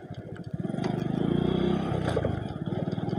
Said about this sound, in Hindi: रास्ते पे जितनी भी बाइक दिख रही है ना भैया, ये सब बादल खुरा के दर्शन करने वाले लोग हैं।